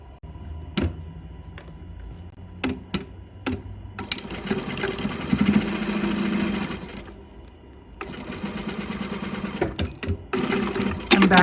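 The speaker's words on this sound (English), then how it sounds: "when I go to stitch it, I will stitch it from this side so I can line the stitching up with the previous stitch line" A sewing machine stitches a zippered bag in two sustained runs of rapid needle whirring, with sharp clicks and handling knocks in between and a brief back-tack.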